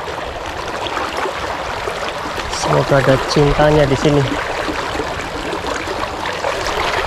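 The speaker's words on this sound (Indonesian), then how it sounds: "Airnya agak gede hari ini mas bro." Fast, swollen water of the Berem river rushes in a steady, close broadband roar, continuing under someone speaking briefly midway.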